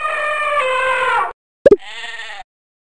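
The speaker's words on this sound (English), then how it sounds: "Sheep." A sheep bleats twice: a long, wavering bleat, then a sharp plop, then a second shorter bleat, loud and close with nothing else around.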